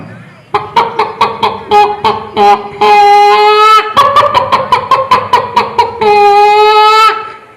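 A mimic voices a hen about to lay an egg at a state school arts festival: insistent rhythmic clucking that swells into long, drawn-out cackles, repeated in waves, loud and near, all made by one person's voice.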